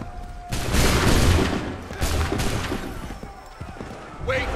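Musket volleys ring out in Assassin's Creed 3 Remastered: two loud, crackling bursts of massed gunfire, one early and one midway, each trailing off into a noisy battlefield rumble.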